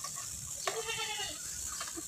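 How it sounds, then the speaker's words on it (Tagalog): A goat bleats once, a wavering nasal cry lasting about a second, with faint background noise around it. "Yung kambing, oh."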